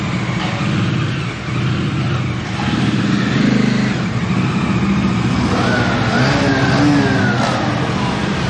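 A Bajaj Dominar 250 motorcycle engine runs on a test ride after servicing, a steady loud drone that rises and revs slightly midway and again near the end, with rushing wind noise.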